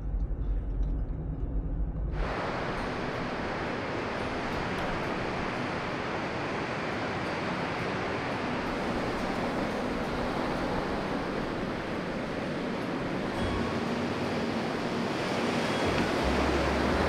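Steady surf washing onto Ruby Beach on the Washington coast at sunset, a continuous broad roar of breaking waves that swells in after a quieter opening, with no talk.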